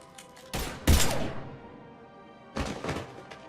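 Two bursts of gunfire in the Mass Effect 3 video game, a heavy loud volley followed by a shorter second burst, with quiet game ambience between.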